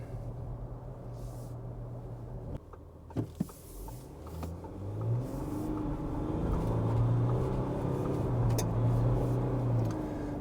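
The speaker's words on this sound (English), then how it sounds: "So what's the acceleration like from the Amarok?" A 2024 VW Amarok Pan Americana pickup accelerates from about 50 km/h, heard from inside the cabin as a low engine drone rising steadily in pitch and volume over road noise.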